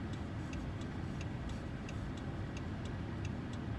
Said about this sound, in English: it has kind of a European sound to it, which I did read up on this Pentastar V6.